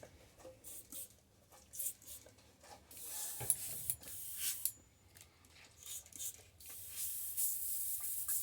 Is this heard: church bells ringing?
no